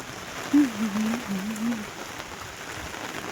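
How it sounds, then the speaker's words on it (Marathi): Steady hiss of rain, with a low voice humming or murmuring briefly near the start. "पावसान येलो पावसान सगळा बरा थंड थंड थंड थंड केला"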